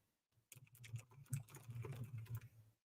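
Fast typing on a computer keyboard, a dense run of close, crisp key clicks that starts after a short pause and stops abruptly, with no voices.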